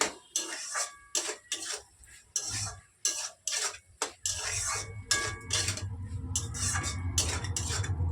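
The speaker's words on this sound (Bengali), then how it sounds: "এবার নেড়ে নেবে" A spoon scrapes and knocks around inside a cooking pot in a series of distinct metallic strokes with short gaps between them, clear and close, then settles into a continuous low rumble.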